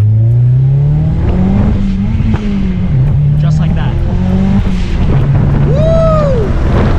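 A car engine revs hard through aggressive gear shifts, its pitch climbing and dropping between changes, loud and close inside the cabin with people talking over it.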